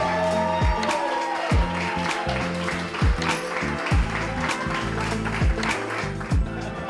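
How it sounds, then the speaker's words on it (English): Studio crowd applauding contestants at a makeup effects competition finale, steady clapping throughout with rhythmic thumping beats, likely music, pulsing underneath. "Round of applause to all of you."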